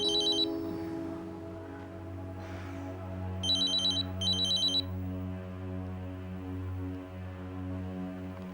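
A telephone rings in short trilling bursts, one at the start and two more close together midway, over soft steady background music.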